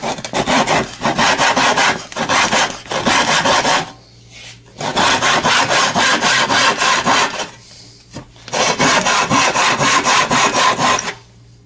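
Hand saw cutting notches into a wooden board bow, close and loud, in three long bouts of steady back-and-forth rasping strokes separated by short pauses.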